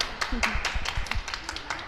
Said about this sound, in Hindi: देखो ताली तो सब बजाओ कोई यार